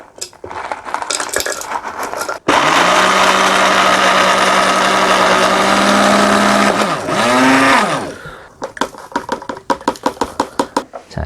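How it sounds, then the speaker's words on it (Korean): A blender grinding Oreo and red velvet cookies roars steadily for several seconds, its whine dipping briefly near the end, with clattering taps and knocks before and after. "믹서기에 하나씩 넣을게요."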